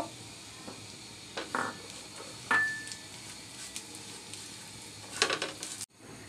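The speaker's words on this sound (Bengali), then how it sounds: "সেমাইটাকে একটু ঘির মধ্যে ভেজে নিব" Semai vermicelli frying in ghee gives a quiet sizzle broken by scattered scrapes and clinks of a utensil stirring in the pan, with a couple of louder clatters near the end.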